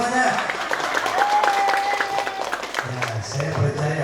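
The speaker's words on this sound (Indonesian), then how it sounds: "Oke, tepuk tangan untuk mama semuanya." An audience at a lively Islamic lecture gives scattered applause, moderately loud, while voices and shouts carry over it and a sung or drawn-out vocal tone briefly rises through the middle.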